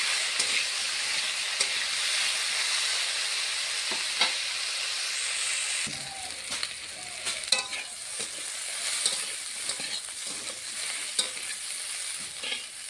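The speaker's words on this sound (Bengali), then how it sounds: "নেড়ে চেড়ে ভালো করে ভেজে নেবো।" Bitter gourd and potato pieces, salted and dusted with turmeric, fry in a pan with a steady, moderate sizzle, broken by repeated scraping stirs throughout.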